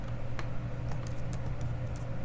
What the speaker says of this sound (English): Now we're going to start typing